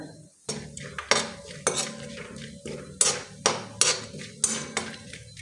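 Dry coconut is lightly roasted in a pan while a spoon stirs it, making a run of sharp, evenly spaced scrapes and clinks against the metal, close and fairly loud, with no voices.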